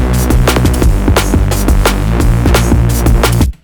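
A dense, detuned Reese bass synth made in Phase Plant, without sidechaining, rolls under a steady beat with sharp drum hits and hats, loud and continuous until it fades out.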